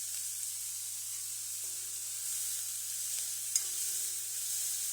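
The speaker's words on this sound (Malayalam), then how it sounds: "നന്നായിട്ട് ഇളക്കണേ." Onion with half a spoon of salt is stirred and sautéed in a pan for a pineapple stir fry. A faint, even sizzle hisses over a low hum, with a couple of soft spatula taps and no voices.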